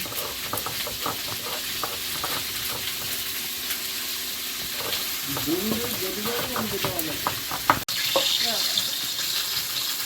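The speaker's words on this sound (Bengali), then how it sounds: "আর মাছ ভাজা এখনও চলছে" Fish fries in hot oil in a wok, sizzling and spattering steadily through the clip, with utensil clinks and a brief scrape near the end, and a voice murmuring faintly underneath.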